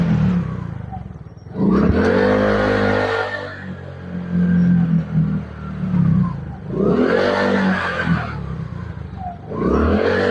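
A scooter engine revving on a roadside stop in Calamba, Laguna, in two loud bursts that rise and fall with quieter idling between them, with no talk over it.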